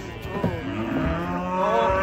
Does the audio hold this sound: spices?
no